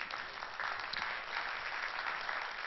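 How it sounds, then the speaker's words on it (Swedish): Audience applause at a social media conference fills the room, steady dense clapping from a crowd, moderately loud and sustained without talk. "Ni kan få applådera de här namnen nu."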